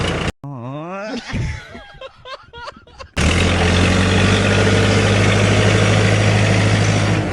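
A JCB backhoe engine at a seed processing plant idles steadily with a loud, continuous low drone through the latter half, after a stretch of brief voices and clatter at the start.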